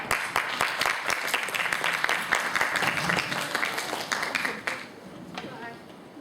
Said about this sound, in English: Please give Jaden a round of applause.